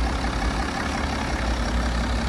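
A BMW 330d M Sport Touring's six-cylinder diesel engine idles, a steady, smooth, even hum with a low rumble, heard close and alone without talk.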